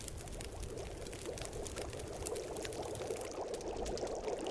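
Water pours steadily while being prepared in The Long Dark survival video game, a soft continuous splashing trickle heard faintly for several seconds.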